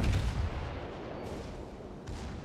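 Heavy naval guns of the Gneisenau warship in World of Warships boom in a deep, rumbling salvo at the start, then a continuous roar of distant gunfire and engine noise fills the rest.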